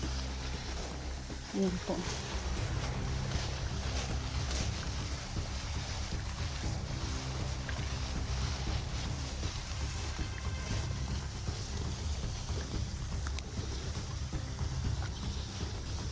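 A strong stream current rushes and churns continuously as a low, heavy roar of flowing water, with someone speaking over it nearby.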